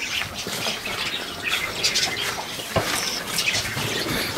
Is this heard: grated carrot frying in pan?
no